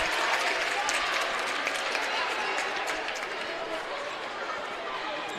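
Crowd noise at a men's college basketball game, Brooklyn College against John Jay College, a steady roar of cheering and clapping filling the arena, fairly distant and unbroken throughout.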